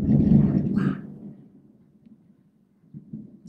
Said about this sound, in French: il y a des éclairs et vraiment là, ça gronde super fort.